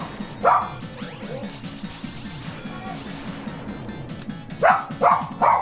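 Dogs barking in loud, sharp bursts: one bark near the start, then a quick cluster of three near the end, over a steady low rumble of background noise.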